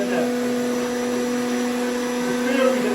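An electric juicer runs at a constant pitch with a steady, close motor hum. The hum continues evenly and alone.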